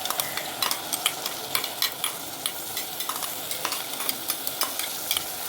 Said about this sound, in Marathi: कांदा आपला भाजत आलेला आहे. हे बघा, हा आता पेस्ट टाकते मी.